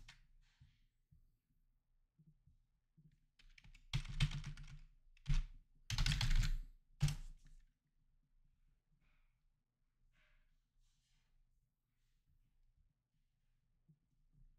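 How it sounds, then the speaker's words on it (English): Several short bursts of keyboard typing on a computer, a few quick clusters of keystrokes close by over a quiet room, with long silent stretches before and after. "I'm just going to type in Radarr and go grab this one"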